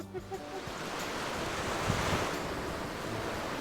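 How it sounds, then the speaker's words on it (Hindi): Ocean waves crash against rocks on a Japanese island shoreline, giving a broad, continuous roaring wash mixed with wind noise, fairly distant and steady, with a faint voice briefly audible at the start. "समंदर की लहरों की आवाज़ बहुत ज़्यादा तेज़ है"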